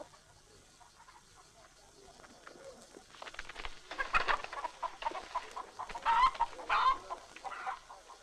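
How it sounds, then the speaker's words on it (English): Chickens cluck in a busy cluster from a rural Western setting, rising from quiet background after a few seconds into overlapping close calls, with voices mixed in. "those chickens are going back"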